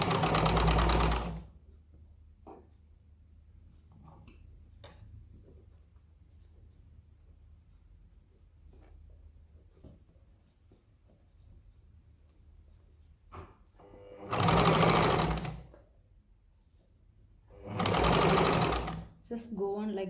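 A sewing machine stitches fabric for an umbrella kurti in three loud, close bursts of rapid whirring, separated by long stretches of quiet handling with some talk.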